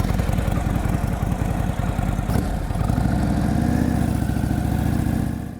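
An Indian Chief motorcycle engine idling close by with a loud, throbbing low rumble and an even pulsing beat that swells briefly near the middle and then fades at the end, with no talking.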